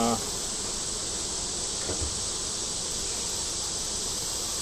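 Honey bees buzzing on an open hive, a dense, steady drone of many bees close by that continues unbroken throughout.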